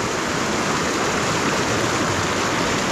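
Fast-flowing water of the Logan River in Utah, a dense, steady roaring rush heard up close and loud, filling the whole clip with no voices.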